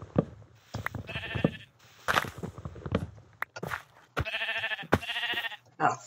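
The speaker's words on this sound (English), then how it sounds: "I see you, sheep. You're running to your doom." Sheep bleat in a hardcore survival game of Minecraft Java Edition, with several drawn-out bleats at mid distance among footsteps and other scattered game sounds.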